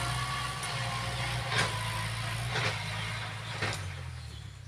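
A large farm tractor's engine runs at a steady low rumble, fairly quiet and unbroken, with a few faint soft knocks over the drone.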